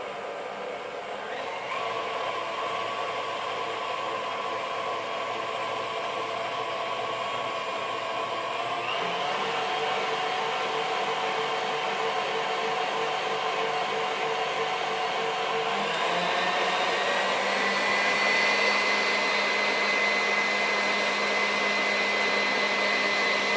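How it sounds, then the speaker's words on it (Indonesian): An electric mixer beats cheesecake batter in a steady, loud motorized whine that runs continuously, shifting pitch upward as the speed is raised partway through, with no talking. "Waktu kocok tidak jadi standar ya, karena tergantung dari mixer yang kita gunakan."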